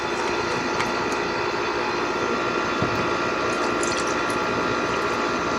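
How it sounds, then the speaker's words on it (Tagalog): Cold water poured into a glass while testing an air-conditioner thermostat, a steady, continuous rushing pour lasting several seconds with no talking. "Kukuha tayo ng tubig, tsaka malamig na tubig. Ilagay natin dito sa baso natin."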